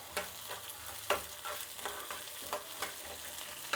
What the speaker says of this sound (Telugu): ఇప్పుడు వీటిని బాగా వేయించుకోవాలండి, పల్లీలు పచ్చిమిరపకాయలు.